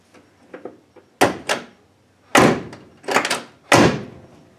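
A 1965 Impala car door with newly glued seals is shut several times, giving four solid, close thunks at steady intervals, each preceded by faint latch clicks and handling noises, with no talk.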